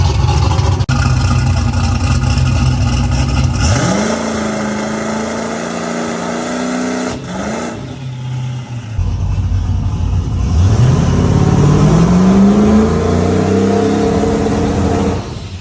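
A turbocharged, LS-swapped 1984 Ford LTD of about 900 hp revs repeatedly, heard up close. Three sharp throttle blips each sweep up and fall back, separated by a lumpy, loud idle and turbo hiss.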